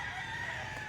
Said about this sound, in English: We have a whole cacophony over here